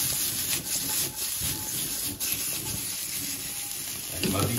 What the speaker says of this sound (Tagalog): gigisa na natin. Siyempre, uunahin natin ang ating smoked utag